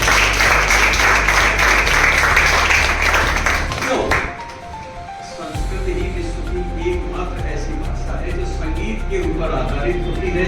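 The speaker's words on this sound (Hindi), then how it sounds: "इसलिए उनके लिए ताली" An audience claps continuously through a Sanskrit conversation camp closing ceremony, a dense, loud wash of applause that dips briefly and then resumes, with music and talk faintly mixed in.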